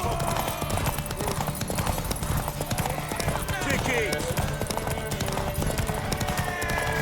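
Steady clip-clop of horse hooves in The Witcher 3: Wild Hunt, running continuously under game music and shouted character dialogue.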